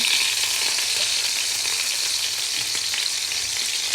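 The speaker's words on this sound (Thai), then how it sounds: "แล้วก็ทอดลงกระทะเลยค่ะ" Thin, flattened beef patties pan-frying in a skillet until browned give a loud, continuous close-up sizzle, an even bright hiss with faint crackling and one small clink near the end.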